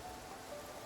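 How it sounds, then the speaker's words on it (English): Steady rain falls in the video game Infinity Nikki, a dense, even hiss of drops with no pauses, moderately loud and alone. "And it's raining."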